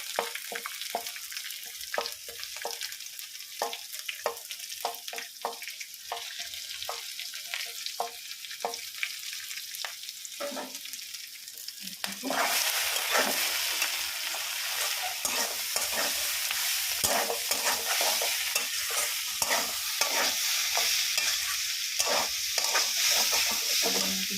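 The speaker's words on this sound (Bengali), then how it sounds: "মধ্যে ঘিটাকে রেখে তারপরে সেই ঘিটাকে গরম করেই গরম মশলা দেওয়া হবে।" Garam masala sizzles in hot ghee set in the middle of a pan ringed with banana flower. It makes a steady crackling fry with stirring scrapes, and the sizzle gets louder and denser partway through.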